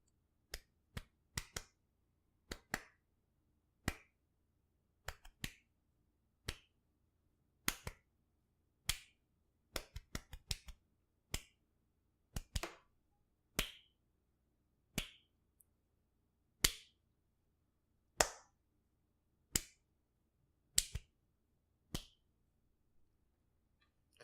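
Hand claps beat out a motto in a deliberate rhythm of single and double sharp, dry strikes with pauses between groups, close and alone in a quiet room.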